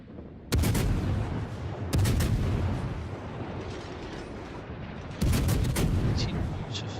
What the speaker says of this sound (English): I just noticed some gunfire coming from the rear there